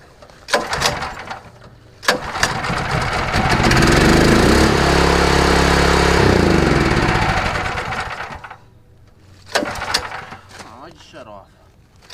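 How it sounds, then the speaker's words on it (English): A rented soil preparator tiller's small engine is pulled to start and then runs at a loud, steady, chugging roar for several seconds before dying away, with someone talking before and after it. "alright, ignition on, choke on, gas on, throttle up"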